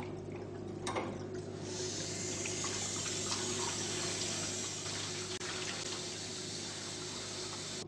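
Water runs steadily while the tanks of a compact multi-purpose floor scrubbing machine are rinsed, a faint hissing, splashing flow after a brief clatter at the start, continuous and close.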